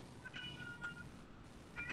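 A cat meows a few times in short, faint, high-pitched calls, heard alone at low level in a quiet room.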